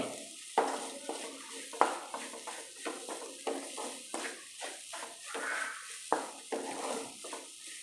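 A spoon scrapes and stirs through an egg filling in a pan, with soft repeated clinks and a light sizzle underneath.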